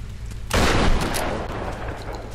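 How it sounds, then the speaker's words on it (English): A single loud, close shotgun blast from Tomb Raider on Xbox 360 booms out after a quiet start and then fades away in a long, rumbling decay. "Just shotgun the platform?"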